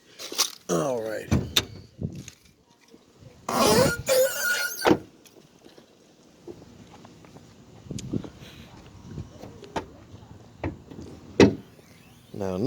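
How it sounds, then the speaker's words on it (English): A car is unlocked and opened at close range: sharp clicks, a squealing power-window or door mechanism, a door thud and rustling, with someone talking in between. "let me open up the car"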